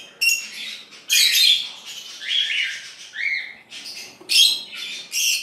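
Young birds in a nest squawk and chirp in bursts of shrill, high-pitched calls while being fed by a parent, close and fairly loud, with short pauses between the begging calls.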